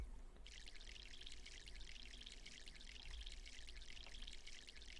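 Water pouring from a can onto a plant in My Sims, a steady hissing splash that runs unbroken from a sudden start, quiet and alone.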